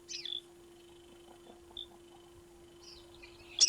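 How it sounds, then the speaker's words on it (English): A Cape sugarbird among flowering proteas on the Cape Peninsula gives a few thin, high chirps, spaced apart over faint background hiss, with a slightly louder burst at the very end. "The Cape sugarbird is only found where proteas grow."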